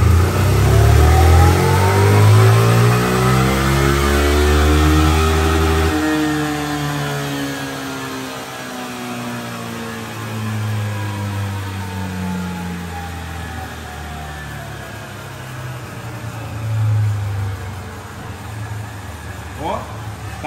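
A Formula-style racing car engine revs hard during a dyno power test, rising in a sweeping glide through the gears and then holding a loud, steady roar up close.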